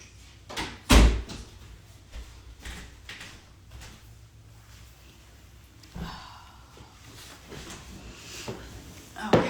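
A door is pushed shut indoors, with a sharp thump early on, then quiet room tone, soft shuffling and a second clack near the end.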